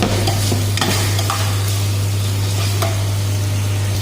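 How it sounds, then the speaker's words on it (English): Bitter gourd sautéing in a pan with turmeric, black pepper and salt gives a steady close sizzle, with a few soft stirring scrapes over a constant low hum. "We have to saute like this."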